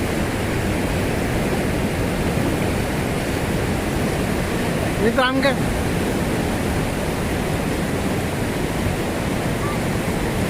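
Floodwater of the Saga Vadi river surges past in a constant, loud roar after heavy rain, with a brief spoken voice rising over it midway.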